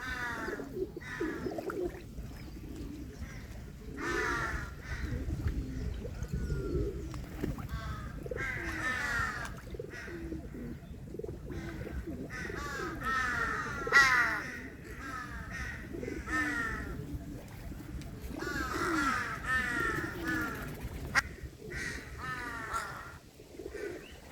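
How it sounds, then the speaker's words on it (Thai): Several crows caw repeatedly in harsh bursts, some close and loud, over a murky background with faint cooing and a low rumble, at a large city lake. "เสียงกาดังมาก"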